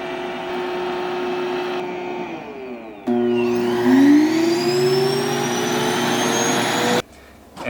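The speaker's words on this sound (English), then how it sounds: "there's a vacuum built in that just sucks out all the contents of the bin" A Roomba i7+ base vacuums out the robot's bin with a loud motor hum, then surges into a louder whirring roar whose whine climbs in pitch before cutting off abruptly.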